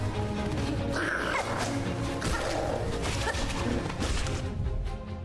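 Dogs barking repeatedly in a busy indoor setting, several loud yips and barks over ongoing background noise with clatter, fairly close and irregular in rhythm.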